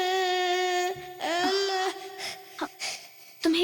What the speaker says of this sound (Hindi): तुम्हें किसी बच्चे के रोने की आवाज सुनाई दे रही है?